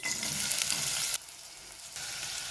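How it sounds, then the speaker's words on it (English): Onions frying in a pot produce a loud close sizzle that suddenly drops away for under a second, then returns at lower strength. "As I wait for the onions to cook"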